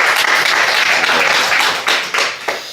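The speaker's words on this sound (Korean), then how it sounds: "하나님께 감사의 박수 한번 칩시다" Church congregation clapping in thanks during a revival service, a loud, dense burst of applause from many hands that tapers off toward the end.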